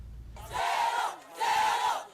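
Angry crowd shouting outside a health centre in Manéa, Koya prefecture, Guinea: two surging bursts of many raised voices, moderately distant, with a brief lull between.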